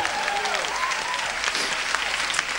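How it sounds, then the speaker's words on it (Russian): Warm audience applause at a church worship service, dense steady clapping from a large congregation filling the room throughout, with a voice faintly audible beneath it. "Подарите большие аплодисменты."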